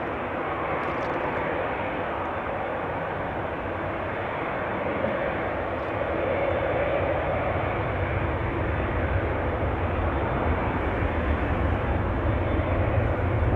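A Singapore Airlines jet taxis at Amsterdam Schiphol Airport, its engines giving a steady, broad roar that holds evenly and swells slightly partway through, heard from a distance without voices.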